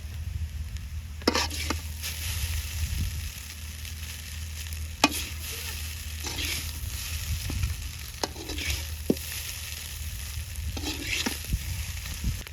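Noodles with masala spice mix and eggs fry and sizzle steadily in a pan, with spatula stirring strokes and occasional clinks against the metal over a continuous loud sizzle.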